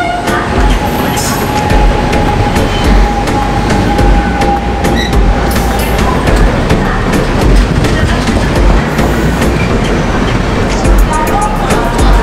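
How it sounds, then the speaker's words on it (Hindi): A Virar local commuter train passes through a station, its loud continuous rumble and clattering wheels filling the whole stretch, with a steady hum and occasional squeals over the rolling noise. "फिलहाल यहाँ एक लोकल ट्रेन आई है, विरार लोकल आई गेस"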